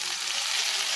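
Tomatoes hit a hot frying pan and set off a brief, bright hiss of sizzling oil, steady and close for about a second.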